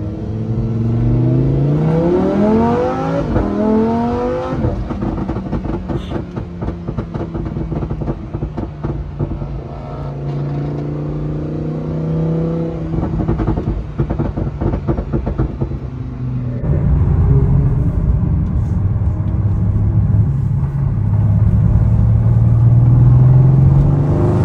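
A car engine revs hard and repeatedly up close, rising and falling through loud sweeps before dropping to a throaty idle and swelling again, with no talking over it.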